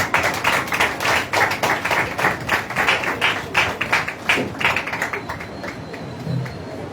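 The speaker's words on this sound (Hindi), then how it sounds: "आइए जोरदार ताली परमेश्वर के दास के लिए।" A church congregation at a Sunday service clapping together, a dense, steady patter of many hands in a reverberant room that fades slightly toward the end.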